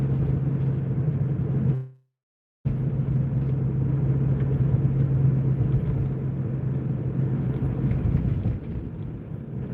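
An SUV cruising at night gives a steady low road rumble and engine drone, continuous apart from one brief dropout of near silence early on.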